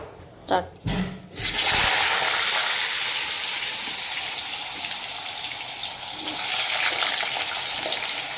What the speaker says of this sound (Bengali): সেই আলুগুলোকে একটু ভেজে নেওয়া হলো হলুদ লবণ দিয়ে